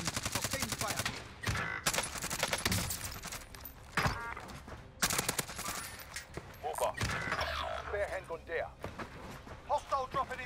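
Heavy gunfire rattles through a Warzone match in rapid bursts, with a buffed Uzi among the weapons, loud and close, broken by brief pauses and overlapping game sounds and voices.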